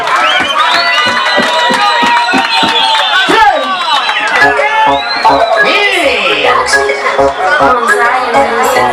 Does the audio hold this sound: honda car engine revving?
no